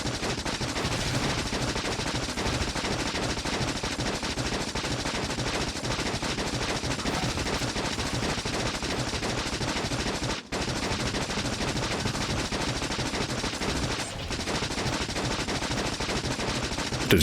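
Automatic gun turret in the factory-building game Factorio firing a continuous, dense rapid-fire stream for the whole stretch, with two very short breaks and no talking.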